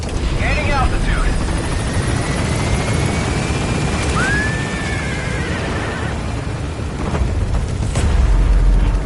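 A B-Quad helicopter in Metal Gear Solid V lifts away from a landing zone, its steady rotor roar filling the scene with a rising whine, while in-game voices talk over it.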